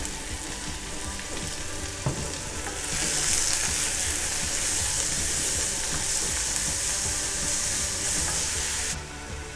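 Onion frying in a pan for a quick prawn and spinach curry: a loud, close sizzle that swells into a bright hiss after a few seconds, with stirring scrapes underneath, and no talk.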